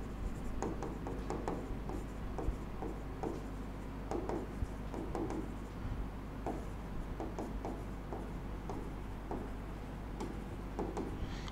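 Pen or pencil writing a college name by hand on paper, close and steady, with a continuous run of scratchy strokes and small ticks over about twelve seconds.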